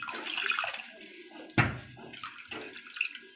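Water poured into a pan of cooking papad chakuli, a Bengali dish, giving a sudden splashing gush and sizzle that then settles into softer bubbling and stirring noises, close by with no talk.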